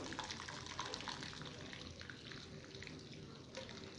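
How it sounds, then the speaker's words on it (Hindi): Boiled herbal water pours through a sieve into a bowl, a continuous splashing trickle that runs steadily throughout. "यहाँ पे मैंने एक बॉल लिया है, छन्नी के साथ हम इसे छान लेंगे इस पानी को"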